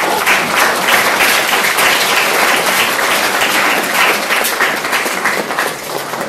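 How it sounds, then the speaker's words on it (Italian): Loud, dense applause fills the room at the close of a talk at a Leonardo da Vinci conference, clapping sustained evenly and tapering slightly toward the end. "magari facciamo un nuovo applauso"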